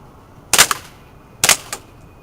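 An HFC M190 airsoft gun fires two sharp, close shots about a second apart during an outdoor accuracy test, each a brief snapping crack with nothing else around.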